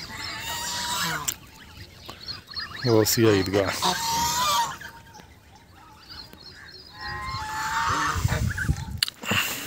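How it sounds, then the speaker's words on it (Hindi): Ducks honk and quack a few times outdoors in a village, under someone talking nearby. "इधर बाहर बतखें फिर रही हैं।"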